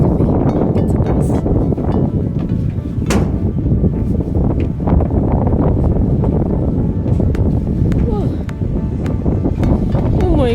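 Strong wind roars and buffets the microphone high atop a tall tower, a loud continuous rumbling gust with people talking underneath it.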